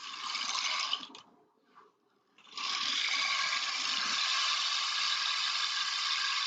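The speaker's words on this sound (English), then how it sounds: "that's a rain stick" A rain stick pours out a dense, hissing cascade of falling grains, close and continuous, breaking off briefly before resuming in a long steady shower.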